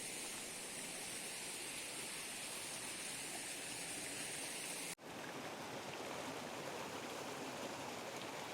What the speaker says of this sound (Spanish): Aquí podemos ver la canalización que se le hizo a la quebrada de Macul para captar agua